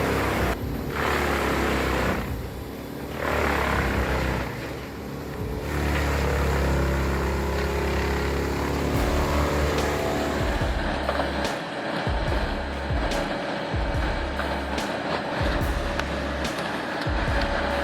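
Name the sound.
Comptech wood crusher engine shredding logs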